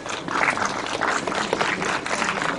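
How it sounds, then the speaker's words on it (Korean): An audience at a Korean literary awards ceremony, the Pyeonun Literary Prize, gives a short round of applause, a moderate crowd clapping in a steady patter that holds for a couple of seconds. "진행자에게도 박수를 쳐주시는군요."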